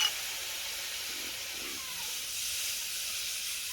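Water poured into a pan of hot oil and cooked spices hisses steadily at a soft, constant level, a faint steamy sizzle with no talking.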